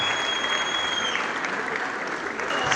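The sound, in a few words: audience applause at a film premiere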